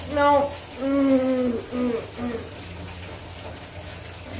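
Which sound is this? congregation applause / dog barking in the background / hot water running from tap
hot water running from tap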